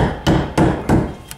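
A hammer taps a preset nail to fix a 1/2-inch PEX pipe talon while plumbing a kitchen, three close, evenly spaced knocks followed by a lighter fourth tap.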